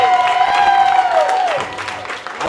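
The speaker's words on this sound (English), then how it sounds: "Please, big round of applause." An audience applauds the winners of a sustainable cocktail championship, loud clapping and some cheering over a ringing, sliding musical tone that drops away midway as the clapping thins.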